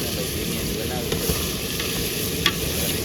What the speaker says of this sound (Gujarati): બટાકાને છે ને તેલમાં આપણે ફ્રાય કરવાનું